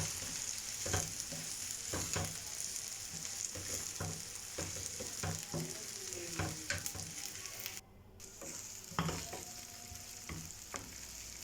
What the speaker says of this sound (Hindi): अब मेरा ऑयल गर्म हो चुका है। अब मैं इसमें बारीक कटी हुई प्याज शामिल कर दूँगी और इसे ट्रांसपेरेंट होने तक पकाऊँगी।